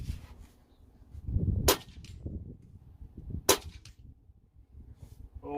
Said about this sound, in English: we'll shoot them at 50 yards and see how they do